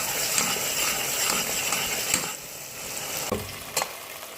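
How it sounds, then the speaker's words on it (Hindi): Spices and potatoes roast in a pan for cumin potatoes, a close steady fry with a sizzling hiss broken by the clatter and scrape of a spoon stirring. "इसको हम अभी 4 से 5 मिनट तक भूनते रहेंगे, ताकि इसमें जो कड़कपन है वो आ जाए।"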